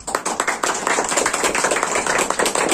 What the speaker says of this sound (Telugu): క్లాప్స్ అందరు.